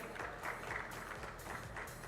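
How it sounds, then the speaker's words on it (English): A conference audience applauding a speaker walking on stage, giving a faint, steady patter of clapping from a distance with no clear voices over it. "Can we have a big round of applause for Kalyan,"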